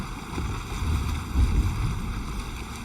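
A sailing ship moves through strong wind in Assassin's Creed Valhalla, with a steady rushing wind and low rumbling water wash, plus a brief deeper thump midway and a faint tonal hum underneath.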